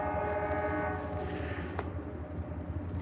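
A train passing through Danbury sounds its horn in a long, loud sustained blast that fades, with a rumbling rail roar and faint clatter continuing underneath.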